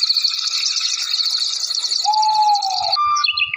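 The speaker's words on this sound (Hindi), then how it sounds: "अगली सुबह चिड़िया के चाचाहट से" Morning birdsong in a cartoon village, dense high chirping and trilling with a clear whistled note near the end, steady and fairly loud.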